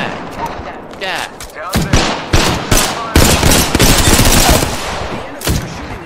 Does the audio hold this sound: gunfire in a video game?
yes